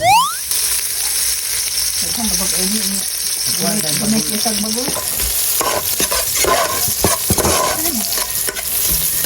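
Steady loud sizzling of food frying in hot oil, with stirring and scraping sounds throughout, close to the pan.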